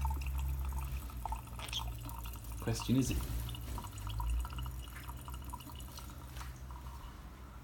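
Water trickling and dripping onto a plate at bath time, soft close splashes and drips under a person talking.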